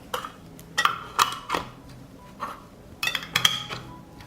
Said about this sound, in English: Close the jars with clean lids.